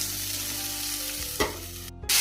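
Potatoes fry in hot oil in a wok (kadai) with panch phoron, green chilies and onions, giving a steady close sizzle broken by a few scraping stirs, with a brief dropout near the end.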